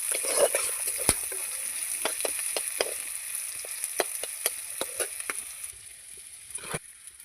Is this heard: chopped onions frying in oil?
yes